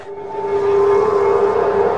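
An ambulance siren sounds at the scene of a cycling race crash, a steady sustained tone that swells slightly louder over two seconds and runs continuously with no talk.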